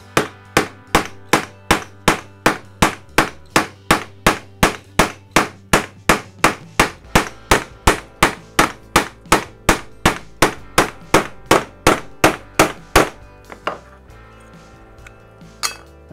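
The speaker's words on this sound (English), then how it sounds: "I push it down in that hole and just pound it through, and that actually will cut it round" Square wooden peg pounded with a hammer through a round-cutting hole while making a sofa table, about thirty sharp, evenly spaced blows in a steady rhythm, close and loud, ending with a few quieter knocks.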